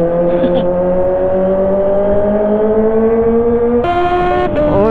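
Motorcycle engine revving on a wet road in light drizzle, a loud, close whine that climbs steadily in pitch, then shifts up and keeps climbing.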